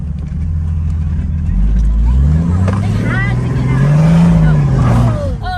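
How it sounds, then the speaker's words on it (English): A 2024 Toyota Tacoma pickup's exhaust drones loudly as the truck is floored through mud, the engine note rising and falling in sweeping pitch under steady road noise, with people talking faintly inside the cab. "so that's the exhaust"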